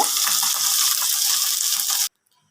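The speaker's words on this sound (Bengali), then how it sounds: "মাছগুলোকে আমি বেশি কড়া করে ভেজে নেব না আর কি, এবার নামিয়ে নেব।" Pieces of fish fry lightly in hot oil in a pan with a loud, steady crackling sizzle, close up, that stops abruptly after about two seconds, with no voices.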